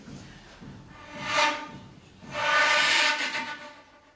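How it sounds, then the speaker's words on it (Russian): Two breathy bursts of airy hiss, like air blown through a flute without a clear pitch, the second longer and louder, close and without talking. "последний элемент это как раз шум воздуха, открытый"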